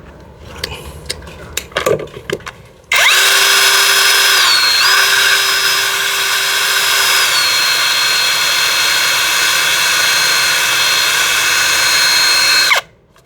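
A high-pitched power tool whirs loudly and continuously for about ten seconds, polishing the steel head of a vintage Plumb Boy Scout axe, after a few short knocks and clatters.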